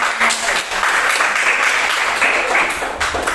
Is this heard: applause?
yes